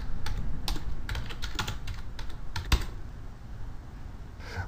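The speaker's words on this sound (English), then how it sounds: "so let's type that in." Typing on a computer keyboard while entering data into a spreadsheet: a run of close, crisp key clicks in an uneven rhythm, with one louder key strike near the end and no voices.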